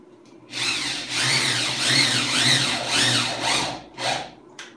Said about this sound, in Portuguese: Eu gosto de parafusar aqui o outro da outra extremidade, porque eu já tenho tudo firme.